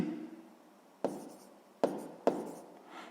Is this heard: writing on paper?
yes